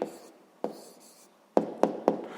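A pen writes on paper up close: short scratchy strokes, an early stroke, one isolated tap, then three quick marks at the end, with no talk.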